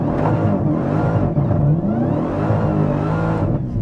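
Dodge Demon 170 launching at full throttle, its engine a loud, close, continuous roar with rising and falling harmonic tones as revs climb, no voices present.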